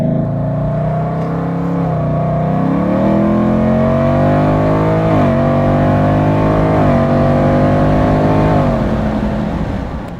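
A 1968 Shelby GT350 convertible engine revs loud and close, climbing and easing back in several rising pulls at part throttle, with a steady rumbling idle underneath throughout.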